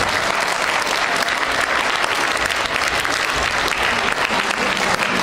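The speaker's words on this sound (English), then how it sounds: "Please give yourself a round of applause." A full audience of graduates claps steadily at a TESOL program graduation ceremony, a thick, even wash of applause with no pauses.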